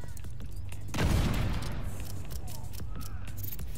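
An explosive detonates in The Division 2 video game: one sudden heavy blast with a rumbling low-end tail that fades over a couple of seconds, against steady background game noise.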